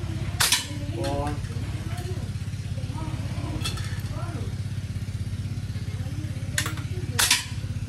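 A Manlapat frame-type CO2 air rifle fires a few sharp, isolated shots during a grouping test, each a crisp snap separated by seconds, over a steady low engine hum with faint voices talking.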